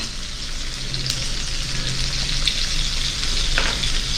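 Onions sauté in a pan for a Tamil brinjal curry, giving a constant close sizzle with stirring noises and occasional sharper pops throughout.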